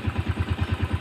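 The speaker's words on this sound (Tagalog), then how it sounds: "pakinggan natin yung andar ng ating ginawang motor" A motorcycle engine idles after a timing gear replacement, with a steady, even chugging pulse of quick regular firing beats, close and moderately loud, without any talking.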